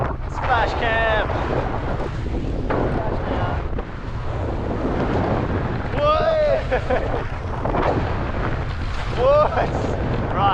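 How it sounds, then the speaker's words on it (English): Strong wind buffets the microphone aboard a sailboat in heavy seas in the Whitsundays, a continuous blustery roar with wave wash beneath, while voices speak and call out over it at intervals. "It's a bit windy today and there are massive seas."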